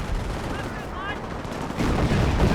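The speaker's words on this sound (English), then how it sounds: "Off artillery hitting the Panzer Grenadiers." Artillery shells strike Panzer Grenadiers in a Company of Heroes battle, with dense crackling gunfire throughout and heavier, louder impacts swelling near the end.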